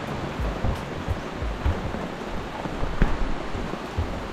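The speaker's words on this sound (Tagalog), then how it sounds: "it's raining again" Steady rain falling during car camping with a Montero Sport, a dense continuous patter and hiss with occasional heavier drops striking close by.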